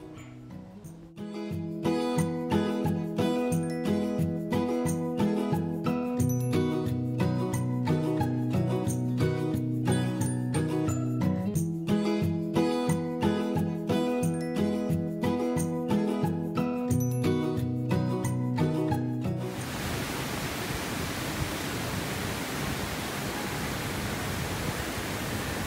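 Music plays for most of the stretch, then gives way to the steady, hissing roar of Prout Falls, a waterfall at Cherrapunji, Meghalaya, heard alone for the last few seconds.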